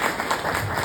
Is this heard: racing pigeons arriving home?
no